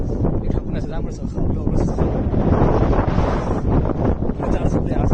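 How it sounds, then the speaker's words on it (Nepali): Strong seaside wind on the coast at Liverpool buffets the microphone with a loud, continuous roar, while people talk underneath it. "हावा चल्दैछ पुरै हावा चलेर पुरै जाडो भइरहेछ"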